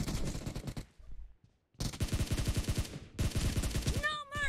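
Rapid automatic gunfire in a PUBG Mobile team deathmatch, bursts of fast repeated shots broken by short pauses, loud and close, with a brief pickup-like chime near the end.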